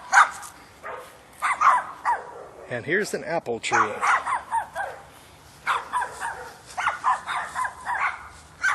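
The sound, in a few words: small dogs barking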